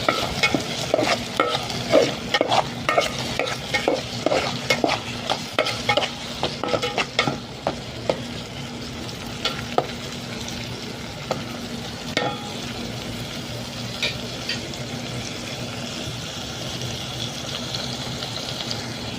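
Sautéed upo (bottle gourd) with tomatoes being stirred in a pan, rapid repeated metal scraping and clattering over a continuous close sizzle, busier at first and then easing into a steadier frying hiss.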